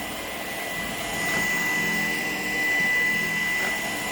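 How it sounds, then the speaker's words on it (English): A Shark PowerDetect vacuum cleaner runs in a kitchen with a loud, steady motor roar and airflow hiss that swells slightly twice. No voices are heard over it. "Now you guys have a wide angle of the vacuum."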